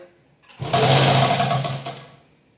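A sewing machine stitches a folded, pinned edge of a chudi salwar pant in one loud, close burst of about a second and a half of rapid needle chatter, starting abruptly and stopping cleanly.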